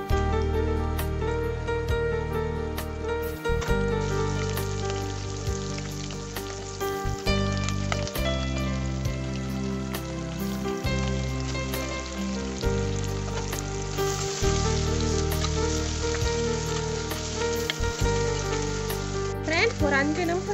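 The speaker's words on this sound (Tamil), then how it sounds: "எண்ணெய் சூடாகிட்ட பிறகு இந்த மங்களம் உள்ள பொருட்களை ஒன்று ஒன்றா போட்டு வதக்கலாம். முதல்ல நெத்திலி போடுங்க" Anchovies (nethili) fry in hot oil with a loud, steady crackling sizzle that runs unbroken throughout, joined by scattered sharp pops and faint stirring clinks.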